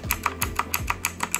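Rapid key presses on a Rampage KB-R19 metal gaming keyboard, about nine crisp clicks in an even, quick rhythm, close up and fairly loud with a low steady hum beneath.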